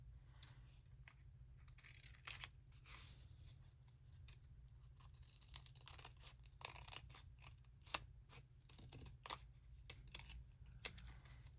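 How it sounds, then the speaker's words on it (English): Scissors snip through book pages to trim them to size, a series of quiet, irregular crisp cuts and paper rustles spread over a faint low hum in an otherwise hushed room. "I am going to cut these down to the size I want."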